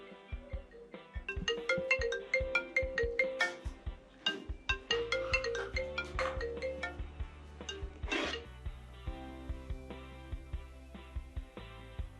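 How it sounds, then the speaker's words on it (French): A mobile phone plays a melodic ringtone for an incoming call. The bright, chiming tune repeats steadily and fills the clip at moderate loudness, and nobody talks over it. "Ton téléphone fait que sonner"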